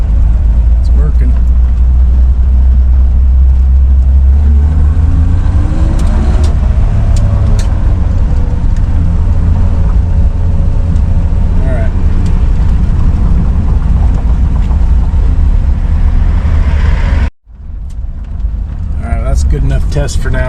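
A 1966 Ford Mustang on a test drive, its engine droning loudly and steadily inside the cabin and rising and falling with speed, with someone talking over it before an abrupt cut.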